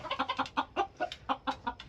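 Half-Bantam, half-gamefowl chickens in a pen cluck in a steady run of short, close, rhythmic clucks with no talking.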